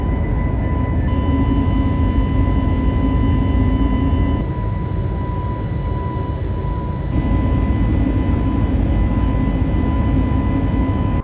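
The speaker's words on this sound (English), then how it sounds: "So welcome on board Tibet Airlines Airbus A319 NEO." Steady, loud cabin roar aboard a Tibet Airlines Airbus A319neo, a constant engine and airflow drone with a faint tonal hum. It holds unbroken for about eleven seconds, shifting slightly midway, with no talking.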